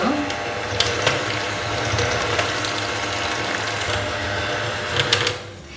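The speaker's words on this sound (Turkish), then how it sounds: "Mikserimi çalıştırıyorum." An electric mixer whirs steadily through waffle batter with a rattling mechanical buzz for several seconds, then cuts off near the end.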